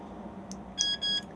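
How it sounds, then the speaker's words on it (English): A key fob for the alarm on a Bailey Unicorn Valencia caravan sounds thin electronic beeps: a faint click, then one sharp chirp followed by a longer tone, heard indoors against a quiet hum. "one beep is armed"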